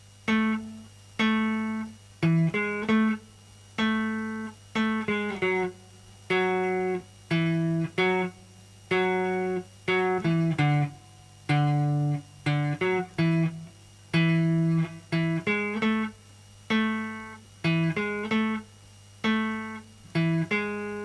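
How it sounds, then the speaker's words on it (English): A bass riff repeats steadily, short groups of plucked low notes looping in a regular rhythm, played alone and clearly up close. "So if we put the whole riff together, it's going to sound like this."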